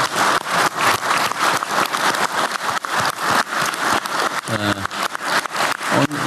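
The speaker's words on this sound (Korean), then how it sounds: "우리 고생하신 총리님한테 박수 한번 드릴까요?" Meeting attendees give the prime minister a round of applause, dense steady clapping from a sizeable room that holds at an even level throughout.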